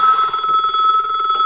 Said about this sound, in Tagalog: Ti prisit at telepono.